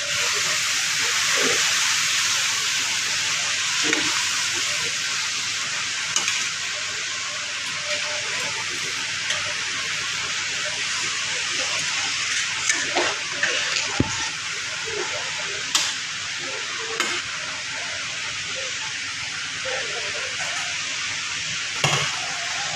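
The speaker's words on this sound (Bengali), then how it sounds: "আমাদের মাংস কষানো হয়ে গেছে, এবার জল দিয়ে দিচ্ছি।" Water is added to a pan of browned kadai chicken curry, giving a loud, sustained steam hiss and sizzle that slowly eases, with scattered stirring clicks and a voice talking at times.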